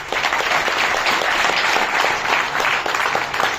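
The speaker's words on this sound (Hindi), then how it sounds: "हम एक दूसरे का स्वागत ताली बजाकर करते हैं।" Seated guests clap together to welcome one another at the start of an event on stem cell technology. The applause is loud and lively, made of many hands, and holds steady for several seconds with no speech.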